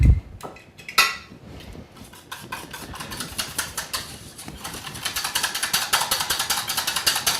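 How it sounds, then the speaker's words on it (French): Rapid scraping and rasping of truffle against a small fine metal grater, continuing steadily and growing busier toward the end, close up with no talking. "une petite râpe, et on va en râper"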